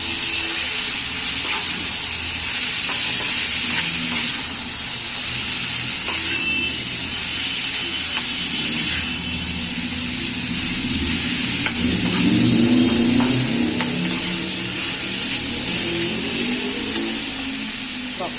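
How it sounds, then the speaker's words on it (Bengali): Boiled vegetarian chow mein noodles stir-fried with cabbage in a home kitchen pan, giving a steady sizzling hiss throughout with soft scraping and stirring, louder in the middle. "চাউমিন সেদ্ধ করে বা চাউমিনটা ঢেলে দেবো"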